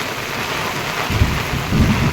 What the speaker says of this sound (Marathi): आवाज येतो विजा तर बघा